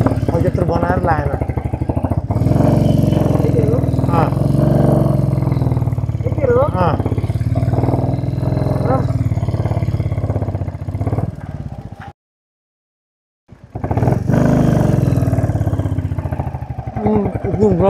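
Motorcycle engine labouring up a steep uphill road, a loud steady mid-pitched drone close by with voices talking over it, briefly cutting out before resuming.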